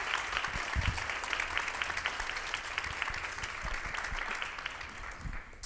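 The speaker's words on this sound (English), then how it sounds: "Round of applause." Applause from the audience at a nonprofit awards ceremony: sustained, even clapping from many people at a fairly close, moderate level, continuing for nearly six seconds and easing slightly at the very end.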